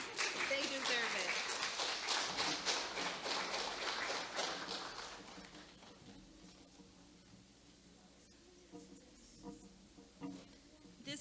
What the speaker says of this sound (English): You can clap for them too